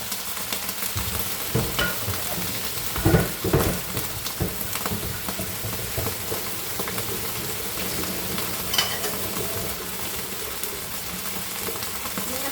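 Marinated fish coated in cornstarch, salt and white pepper sizzles and fries in a pan, a steady close crackling hiss with a few louder bursts of spattering as pieces are stirred.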